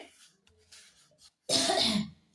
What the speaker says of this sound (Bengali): আর খুব কাশি হচ্ছে বন্ধুরা